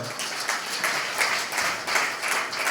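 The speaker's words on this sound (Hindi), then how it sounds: "एक जोरदार ताली के साथ" Brief burst of audience applause at a speech in a business meeting hall, many hands clapping together in a steady, fairly loud wash.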